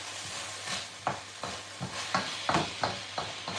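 A vegetable stir fry with curry powder sizzles in a hot pan, a steady frying hiss broken by repeated scraping stirs and tossing bumps at a regular pace, close and alone without voices.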